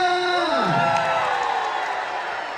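An enthusiastic audience at a large partner gathering cheers and whoops, a loud swell of voices that rises sharply and then holds as a sustained roar for a couple of seconds.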